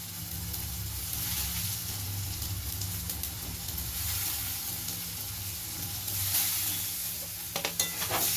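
Chopped tomato sizzling with ginger garlic paste in a pan for mushroom chicken: a loud, continuous close-up hiss, with a few stirring scrapes near the end.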